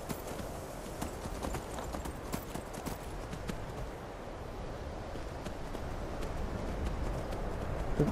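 Rhythmic clip-clop of a horse's hooves trotting at a steady pace in the video game Skyrim, fairly close, with a faint breezy background and no talking.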